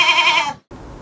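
A person's voice imitates a goat's bleat in one short, wavering, nasal cry that fades out, followed by a brief silence and faint room noise.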